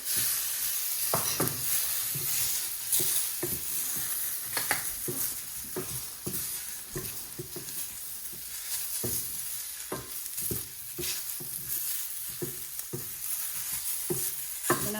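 Stuffed bitter gourds sizzle in a pan while a utensil stirs them, the frying hiss running throughout and broken by repeated scraping strokes, close and moderately loud.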